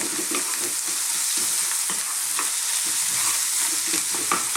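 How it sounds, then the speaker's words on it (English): Spinach and mixed vegetables for a vegan vegetable chili are stirred in a hot pan over above-medium heat, a constant close sizzle with soft repeated scraping strokes throughout, no voices. "cook this for about 3 to 4 minutes on this kind of above medium heat, stirring all the time"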